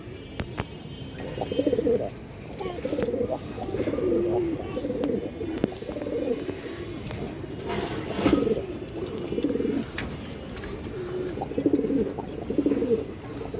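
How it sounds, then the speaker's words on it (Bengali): A pair of pigeons cooing close by, repeated soft throaty coos in uneven bursts over a low background hum, with occasional faint clicks and rustles. "খুব সুন্দর এক জোড়া কবুতর"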